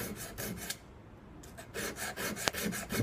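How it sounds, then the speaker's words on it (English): Sandpaper rubbed back and forth over a guitar fret, a close rhythmic rasping in even strokes with a brief pause partway through. "Use some sandpaper too."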